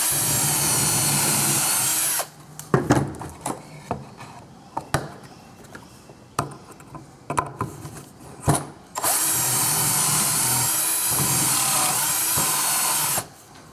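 A power drill bores pocket holes in boards clamped in a Kreg pocket hole jig, two loud sustained whirring runs of a couple of seconds and several seconds separated by clunks and handling knocks of wood and tool.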